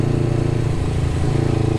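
A motorcycle with a newly replaced exhaust running while riding, a loud, steady low engine drone with a throbbing pulse, close to the microphone and continuous with no talk.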